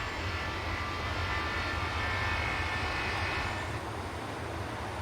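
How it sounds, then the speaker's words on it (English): Airliner jet engines at LaGuardia Airport in the Tower! Simulator 3 video game, a steady broad roar that holds loud and even, easing slightly toward the end, with no talking. "I love the sound of these engines."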